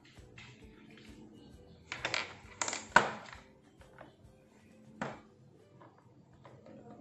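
Coins scraping and clinking against the brush bar of a Dyson V6 cordless vacuum during cleaning, heard as a few sharp metallic clatters around the middle amid quieter rustling handling noise.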